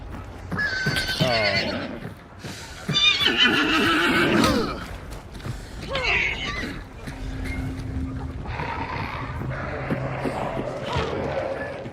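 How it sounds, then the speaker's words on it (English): Horse neighing and clopping hooves in the video game Hunt: Showdown, with loud whinnies rising and falling over several seconds against game ambience, a brief exclamation from a player amid the sounds. "You killed the horse, but at what cost?"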